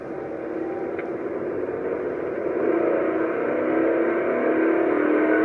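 A 2017 Ford F-150 pickup with intake runner faults pulls from 20 to 60 mph, a steady broad engine and road roar that rises gradually in pitch and loudness as it accelerates, with no talk over it.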